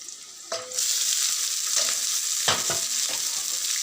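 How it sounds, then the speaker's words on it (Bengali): Garlic frying in a pan, a bright continuous sizzle with a few soft knocks and scrapes of a utensil against the pan, close up and without talk. "তো রসুনটা ভাজা হয়ে গেছে।"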